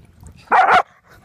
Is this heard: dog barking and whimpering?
yes